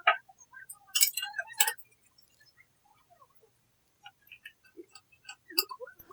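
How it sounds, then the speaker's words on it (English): Metal clicks and light clinks of a 10mm socket and 10mm wrench tightening axle bracket bolts on a Harbor Freight band saw stand, a quick cluster of ratcheting ticks up front, then sparser faint taps near the microphone. "With this 10mm socket and 10mm wrench, I'm going to tighten down the axle bracket bolts."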